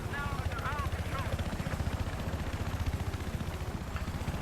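Helicopter rotor thumping steadily in Battlefield 4 on PC, a loud, continuous rhythmic chop in the air with faint high electronic chirps from the game over the top.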